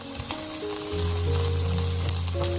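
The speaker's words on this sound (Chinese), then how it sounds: "快速的翻炒均匀，把所有的配菜和米饭炒至均匀" Rice and side ingredients stir-fried over medium heat in a wok, giving a loud, close, continuous sizzle with quick tossing and stirring and no voices.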